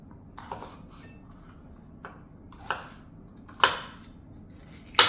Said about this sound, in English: then we'll just slice up the bell pepper a bit.